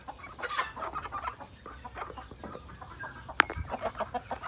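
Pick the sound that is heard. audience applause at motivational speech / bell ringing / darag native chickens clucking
darag native chickens clucking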